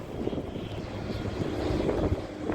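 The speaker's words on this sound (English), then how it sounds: "look at this plane going right over my head" A plane passes directly overhead, its engine drone a steady, rumbling roar that swells slightly as it goes by, with no speech.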